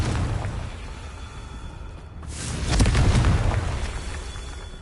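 A Confringo fire spell explodes in the video game Hogwarts Legacy. The blast rises into a broad rumbling boom that swells and lingers for a couple of seconds over steady game ambience.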